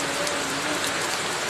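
Steady, dense rain falls close by, a continuous loud hiss of drops on surfaces with no pauses and no voices.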